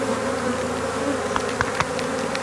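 Honeybees drone in a thick, continuous, close buzz around a hive as the cover is replaced, with a few soft taps in the middle and no voices.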